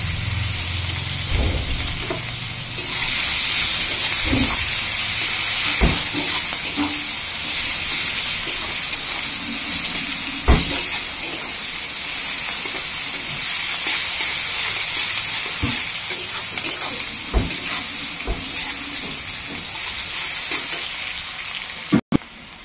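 Sliced onions fry in the mustard-tinged oil left from fried baus fish, a steady, dense sizzle close to the pan with occasional stirring scrapes and clinks and no talking.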